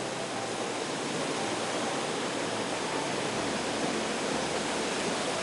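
A waterfall in a forest river valley gives a steady, dense roar of rushing water that stays loud and even throughout, with no voices over it.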